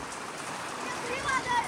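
A short burst of heavy cyclone rain near Tuljapur, falling as a steady wash of drops on surfaces, fairly faint and unbroken.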